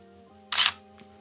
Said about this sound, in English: So it took 1 second for that shutter to close and allow that data to finish processing to create an image.